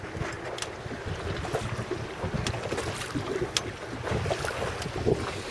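A rigid inflatable boat rocks on Lake Garda in gusty wind, heavy wind buffeting the microphone over low water and hull rumble, with scattered small knocks and splashes.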